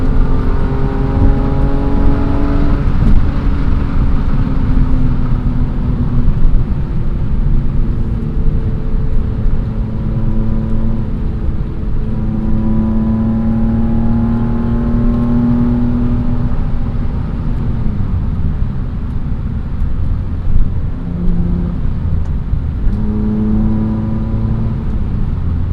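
A 1998 BMW M3 E36 is driven hard from inside the cabin, its engine droning loudly through repeated rising revs and gear changes, the pitch climbing, dropping and climbing again.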